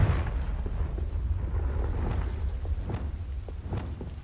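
A Confringo fire-blast spell explodes in the game Hogwarts Legacy, a low rumbling boom that rolls on steadily with a few softer bursts on top, fairly loud throughout and with no voices.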